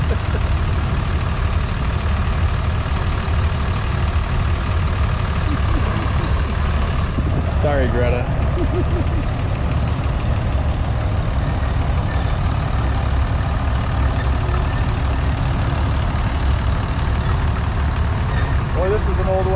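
An antique Avery steam traction engine runs at an outdoor summer machinery show, giving a steady, loud mechanical rumble throughout, with a brief voice speaking partway through.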